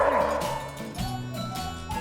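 Dog barking and yipping on a countryside agility training course in Norfolk, a few sharp close barks with excited whimpers, with handlers calling commands around it.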